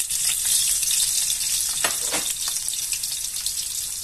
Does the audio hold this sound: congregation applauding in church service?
no